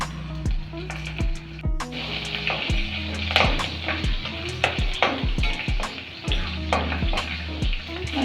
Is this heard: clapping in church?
no